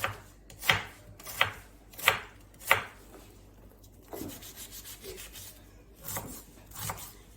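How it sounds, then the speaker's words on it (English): A knife finely chops rinsed onions on a cutting board while beer-braised lamb is being prepared. Crisp, evenly spaced strokes fall close by, with a quieter patch of scraping partway through and no talking. "so now I've rinsed my onions, and so I'm going to be chopping my onions."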